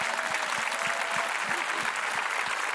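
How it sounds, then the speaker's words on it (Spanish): An audience in a plaza applauds a band at a Festiband event, with steady, moderately distant clapping throughout and a faint crowd murmur beneath. "Aplauso grande para la banda, por favor."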